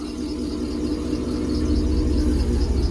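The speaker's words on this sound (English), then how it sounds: "Have to idle her up." A plow truck's engine idles up, giving a steady, loud low rumble with a faint mechanical hum that holds constant and builds slightly over the clip, with no talking.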